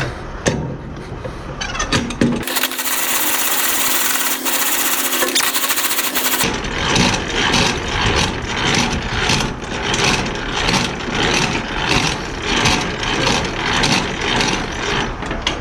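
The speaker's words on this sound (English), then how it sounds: "Let's put our landing gear up." Landing gear on a semi-trailer tanker being cranked up by hand, a fast, regular ratcheting clatter that repeats loudly and close, with a steady mechanical hum in one stretch partway through.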